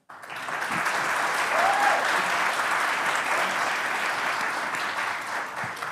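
An indoor audience at a spring opening session applauds a special guest with sustained, dense clapping that holds steady for several seconds, loud and close, and then fades slightly at the end.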